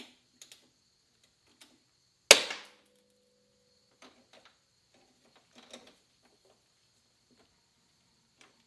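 A factory screw head snapping off while being tightened on a brake line clamp during a Polaris Sportsman XP 1000 lift kit install: one sharp crack, then scattered small ticks and clicks in a quiet space.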